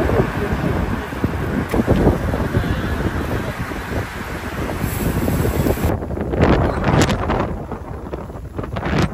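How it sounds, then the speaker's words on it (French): Strong wind buffets the microphone outdoors, a loud, continuous rushing roar with gusty swells that shifts in character toward the end. "Actuellement hyper venteux."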